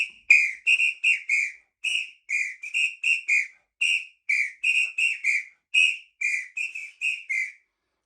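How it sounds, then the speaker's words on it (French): A triton samba whistle for batucada is blown in a series of short, sharp, shrill bursts with shifting pitch as its ends are blocked, loud and close with brief gaps between blasts. "Voici le sifflet triton"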